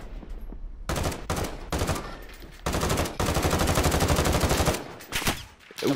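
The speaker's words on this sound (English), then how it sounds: "Someone else taking pot shots at me?" Automatic gunfire in Call of Duty: Modern Warfare, with several loud sustained bursts of rapid shots separated by short pauses, the longest stretch running over a second and a half, close and dominant with no voices over it.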